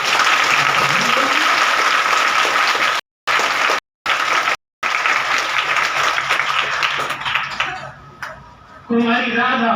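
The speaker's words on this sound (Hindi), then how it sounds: "जोरदार ताली बजाएंगे तो नाम बोलूं" An audience at a satsang gathering at an ashram breaks into loud, sustained clapping that fills most of the stretch, broken by brief dropouts, then fades as a voice and some clinking come through near the end.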